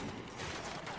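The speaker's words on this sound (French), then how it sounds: "Quelque chose qui vient de me tirer, mais je sais pas d'où." Gunfire in the video game Ghost Recon Wildlands, a dense, continuous burst of shots filling the whole moment at steady loudness, with no speech over it.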